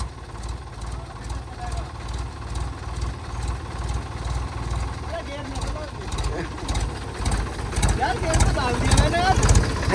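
A tractor engine runs at a steady, low, rhythmic chug close by, rising slightly toward the end, while people talk over it.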